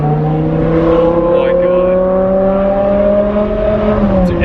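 A BMW E63 M6's V10 engine revs up smoothly and loudly, heard from inside the car as a rising, high-pitched multi-harmonic wail that holds steady for several seconds before easing off.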